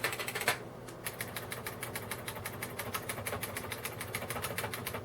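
Repeated clacks from the spacebar of a beige Unicomp Model M 103-key PS/2 buckling-spring keyboard, pressed in a quick steady rhythm, close and fairly quiet, after one louder opening stroke.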